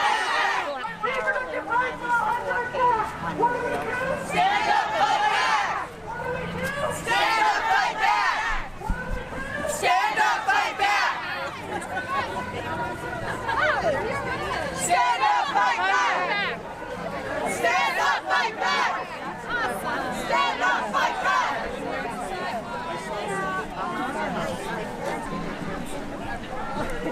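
Protest crowd at a Bans Off Our Bodies reproductive rights rally, loud massed chanting and shouting mixed with close chatter and babble throughout, in steady rhythmic bursts.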